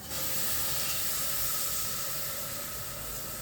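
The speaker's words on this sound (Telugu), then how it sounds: "ఆ నీళ్ళు పోస్తున్నా" Water is poured into a pan while making ginger jaggery barfi, giving a constant, even hiss at moderate level that runs unbroken through the whole stretch.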